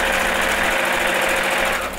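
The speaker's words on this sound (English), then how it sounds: "And then I'm just gonna sew all the way across." A sewing machine runs steadily as it stitches across a pleat in a homemade fabric face mask, a continuous close mechanical whir with fast rhythmic needle clatter, loud and alone, easing slightly at the end.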